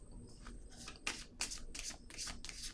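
Tarot cards are handled and laid down on a table, a run of soft papery slaps and flicks, quiet and close, with no speech.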